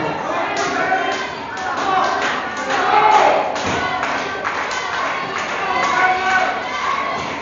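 A wrestler is body slammed onto the ring mat at an independent wrestling show, a dull thud amid a noisy crowd that murmurs and shouts while a commentator talks over it.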